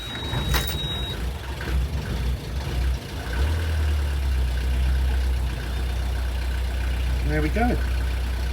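A boat engine with 2,635 hours on it, out of gear on the Norfolk Broads, cranks and catches, then settles into a deep, steady, close idling rumble; someone speaks briefly near the end.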